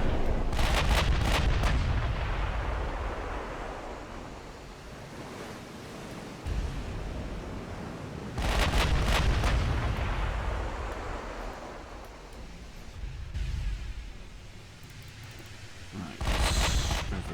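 Battleship main guns hurl 13-inch shells in Ultimate Admiral: Dreadnoughts, with three heavy, booming salvos spaced several seconds apart, each rolling into a long, fading rumble over steady sea-like wash.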